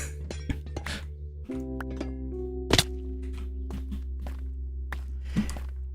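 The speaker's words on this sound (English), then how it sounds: "I am mining out a trial chamber to get a ton of copper for a very large build" Pickaxe digging through copper blocks in a Minecraft trial chamber, heard as scattered sharp clinks and knocks at an uneven pace over a steady low ambient drone, with one louder crack near the middle.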